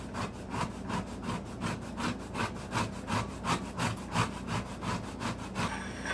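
A kitchen toothbrush scrubs lemon zest off a grater in quick, even back-and-forth strokes, about three per second, close and fairly quiet, with no voices.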